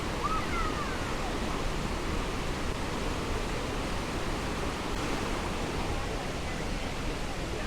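Banias Waterfall roaring in a steady, dense wash of rushing water, loud and continuous throughout with no breaks.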